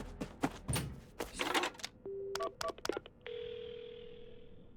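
A telephone in the Paranormasight video game is dialed to call an ambulance, with handset clunks and clicks, a string of short dialing tones, and then a steady dial tone held alone.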